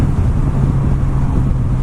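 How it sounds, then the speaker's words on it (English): Steady roaring wind buffeting a rider on a Suzuki GSX S1000 motorcycle fitted with a Puig screen on a breezy day, a dense loud rush with a low rumble throughout and no talking. "I mean, it's quite breezy today"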